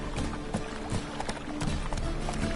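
Roach the horse gallops in The Witcher 3: Wild Hunt, hooves clip-clopping in a steady, rapid rhythm over continuous game ambience and music, loud and close throughout.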